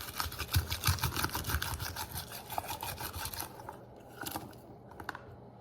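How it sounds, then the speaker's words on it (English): Whole garlic cloves roll inside a rubber tube peeler with a dense, rapid rustling and scraping close by that thins into sparse papery crackles near the end. "Toss them in the garlic peeler."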